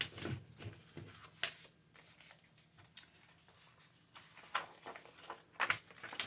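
Paper strips being folded by hand for 3D origami, producing soft, intermittent rustles and crisp creasing sounds, quiet and close.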